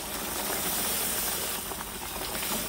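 Beef bones and broth go into a hot pan of browned flour and onion for beef paya nihari, giving a loud, continuous steamy hiss that holds evenly throughout with no talking.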